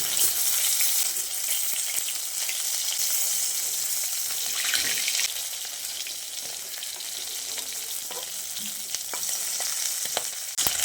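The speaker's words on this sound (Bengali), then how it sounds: "এভাবে উল্টে পাল্টে এবার মাছগুলোকে লালচে করে ভেজে নিতে হবে।" Steady, close sizzling and crackling of katla fish frying in hot oil, with occasional clicks and scrapes as pieces are turned, no voices.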